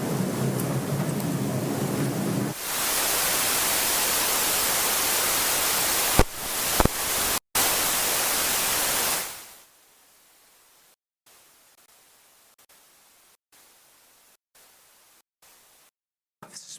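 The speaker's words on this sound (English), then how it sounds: "May I have the white noise" Steady loud white noise plays in a courtroom, a dense hiss lasting several seconds with a couple of brief dropouts, then it cuts off abruptly to near silence broken by faint clicks.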